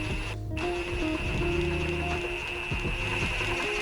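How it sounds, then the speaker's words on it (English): A hand tap tool threading holes for a car spoiler makes a steady ratcheting, clicking mechanical rhythm up close, layered over a constant high whine and background hum. "I'm hoping you guys can hear the tapping action"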